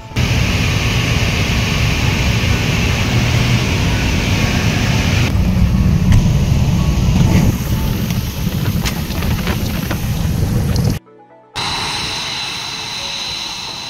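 Steady loud roar of a passenger airplane maneuvering and banking to line up with the runway on approach near Saipan, heard from inside the cabin, broad engine and wind noise continuing throughout with a brief dropout near the end.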